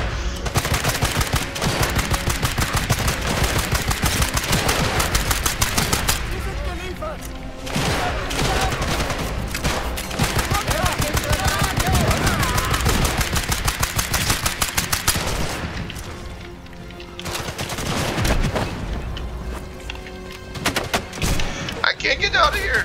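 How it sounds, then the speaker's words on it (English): Enemy gunfire in the video game Sniper Elite 5, dense rapid bursts of automatic shots with heavy booming impacts that continue almost without pause, loud and close, with brief lulls between volleys. "He's shooting me"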